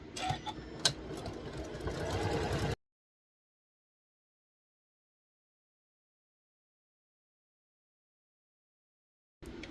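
A sewing machine runs in a quick, rattling burst for a few seconds, stitching quilt block pieces, followed by a long silence and a brief return of sound at the end.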